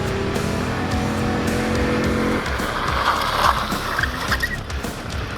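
A cheap moped on stock, nearly bald tires brakes hard to a stop, its engine droning steadily and then giving way to a rough, scraping skid that fades out, loud and close with no talking.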